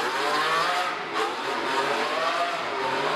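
A drift car on the first turn of a stadium drift course at Baypark Stadium, engine howling loudly and steadily as it accelerates out of the corner, with crowd-level background noise throughout.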